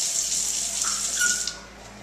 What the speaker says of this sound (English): It's not if it gets splashed with water, and actually I'll demonstrate that as well.